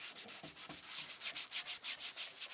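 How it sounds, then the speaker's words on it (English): Plastic car headlight being wet-sanded by hand, rhythmic back-and-forth rubbing strokes, quiet and close, speeding into an even quicker regular pattern toward the end. "I'm just going to gently go over everything"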